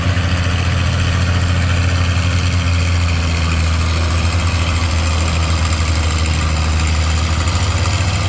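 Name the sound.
antique 88 diesel tractor engine at tractor pull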